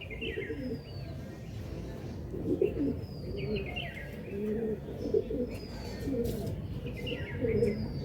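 Pigeons coo in soft, repeated low phrases at a pigeon sale in Hooghly, with brief higher chirps and faint background noise throughout.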